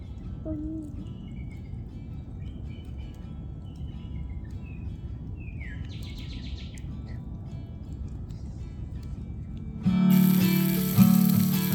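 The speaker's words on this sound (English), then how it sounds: "I hear a bald eagle." A bald eagle gives faint, high chirping calls at a campsite in Tomoka State Park, over a steady bed of insects and soft outdoor ambience; a louder tonal sound abruptly takes over near the end.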